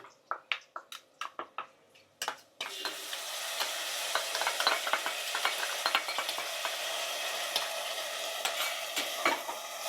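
Mutton with ginger-garlic paste hits hot oil after a few sharp clicks and taps, then sizzles loudly and continuously while a spoon stirs and scrapes the pan up close.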